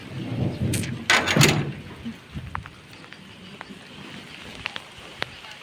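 A deep rumble of thunder rolls through early on, then fades into a quieter backdrop of scattered rain taps and small ticks.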